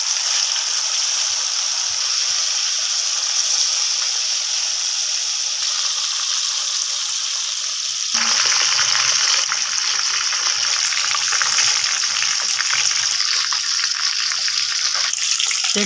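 Rohu fish frying in hot oil in a kadai, a steady crackling sizzle throughout that grows louder and denser partway through, with no talking.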